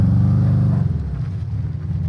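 A loud engine rumbles close by, then its tone shifts and fades slightly as the car moves along.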